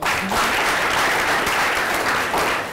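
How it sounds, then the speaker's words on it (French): An audience breaks into full, steady applause at close range, a thick wash of clapping that holds evenly from start to end with no voices over it. "Il faut le dire, ça s'applaudit également."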